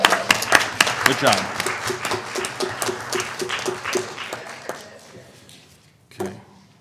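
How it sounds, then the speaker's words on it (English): Applause for parents at a school board meeting: a round of hand clapping from the room that fades out over several seconds, with a brief burst of claps near the end and a voice speaking over it. "But a round of applause for your parents, too."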